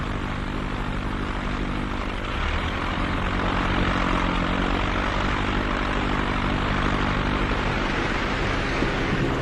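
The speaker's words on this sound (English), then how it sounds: "One by one, the engines are revved up as the plane prepares to leave." Steady, loud roar of a flying boat's propeller engines running up one by one on Southampton Water, a continuous heavy drone with low throbbing tones that builds slightly partway through.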